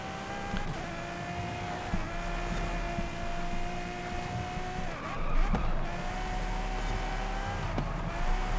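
A racing car engine in Forza Horizon drones continuously, with steady high-revving tones that dip and climb as the car brakes and accelerates through turns, loud and unbroken.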